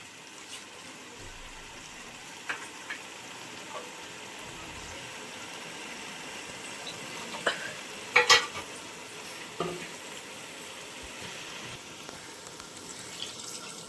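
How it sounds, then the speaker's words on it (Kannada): Chicken with ground masala is stirred in a pan, a quiet soft sizzle underlying occasional scraping and clinking of the spoon, with a brief louder knock near the end; no talking. "ರುಬ್ಬಿರೋ ಅಂಥ ಮಸಾಲೆ ಹಾಕಿ ಚೆನ್ನಾಗಿ ಮಿಕ್ಸ್ ಮಾಡ್ತಾ ಇದ್ದೀನಿ"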